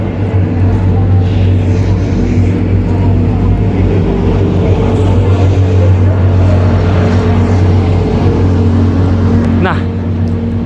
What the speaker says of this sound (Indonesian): Ada mobil bebek gue.